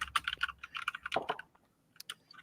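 Rapid typing on a computer keyboard during a fantasy football draft session, a quick burst of clustered key clicks for over a second, then a pause and a few scattered final taps, close and fairly clear.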